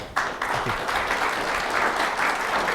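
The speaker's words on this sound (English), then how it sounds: "Please give Yochi another round of applause." A library audience gives a full, steady round of applause for a foreign policy editor. It swells in quickly and holds loud and even, with no one speaking.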